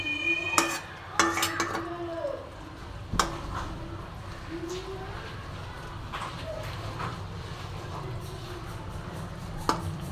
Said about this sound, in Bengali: দেখো ছোট এক বাটি মতো দিয়ে আমি আর একবার ঢেকে দেব।